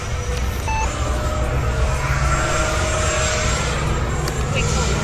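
An FMS Yak-130 70mm RC model jet flying a kulbit gives a continuous loud rushing roar with a thin high whine, steady throughout, while a person appears to talk over it.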